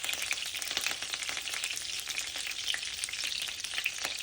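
Curry leaves frying in oil with butter in a pan give a steady, close crackling sizzle with sharp pops throughout and no talk.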